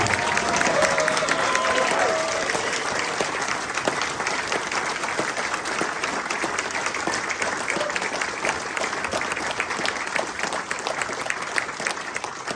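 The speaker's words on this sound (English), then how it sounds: "if you can help me with a round of applause for these fine musicians" An audience at the Whitley Bay Jazz Festival applauds the musicians of Josh Duffee's Abe Lyman Orchestra, long and steady clapping from a crowd, with a faint murmur of voices mixed in.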